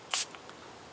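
A small travel spray bottle gives a single quick hiss of water mist, close and brief, followed by quiet.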